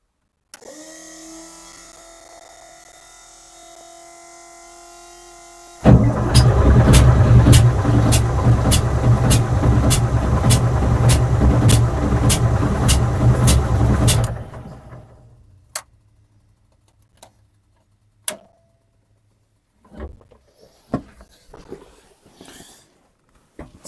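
A BMP infantry fighting vehicle's UTD-20 diesel engine is cranked by its starter for about eight seconds, a loud, dense whirring drone with a regular ticking beat, then cuts off, leaving quiet with scattered clicks and knocks.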